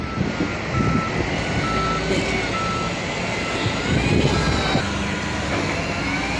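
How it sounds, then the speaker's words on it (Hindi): A 54-ton trailer truck being loaded at a mine siding, with a steady, loud engine rumble and machinery noise throughout and repeated reversing beeps sounding over it. "हमारी गाड़ी लोड हो रही है, 54 टन पासिंग है।"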